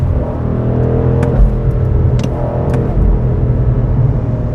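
A BMW M850i Gran Coupe engine roars steadily as the car accelerates, a loud low rumble with rising revs and a few brief high clicks.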